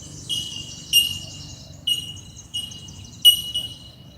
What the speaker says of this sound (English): It was just a bird.